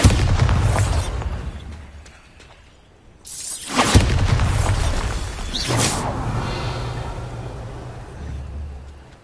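A Bombarda spell in a Harry Potter video game goes off in a loud whooshing explosion with a deep boom, a second burst following a couple of seconds later, over a low rumbling game backdrop.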